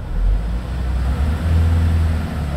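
Manual car pulling away in second gear with the accelerator pressed, a loud low engine rumble rising and swelling as it moves off, heard from inside the cabin without any talk.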